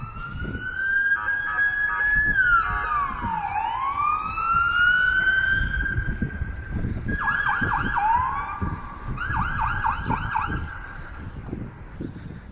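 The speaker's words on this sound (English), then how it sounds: "There are a couple of police cars actually." Police car sirens from a couple of cruisers sweep and wail through downtown Toronto, loud and close, with the pitch sliding as they pass, over steady street and traffic rumble.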